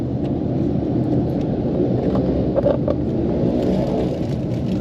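Steady low road rumble and engine whir from inside a taxi moving through Bangkok traffic, a continuous near drone with small swells and faint clicks, no talking.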